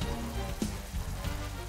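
Food frying in a pan for grilled chicken noodles, a steady dense crackling sizzle like light rain, close and continuous with a couple of brief louder pops.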